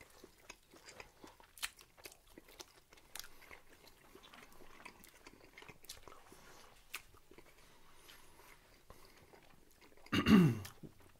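Biting into crunchy bar chicken wings: quiet sparse crunches and chewing through most of the stretch, then one loud close crunching bite near the end.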